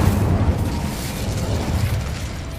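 A sustained, roaring rumble of an Incendio fire spell blast from Hogwarts Legacy holds steady and loud for a couple of seconds, with no pauses.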